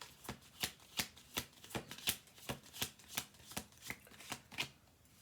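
A deck of cards being shuffled by hand, a quiet, close series of about fifteen crisp riffling snaps in a steady rhythm, with nobody speaking.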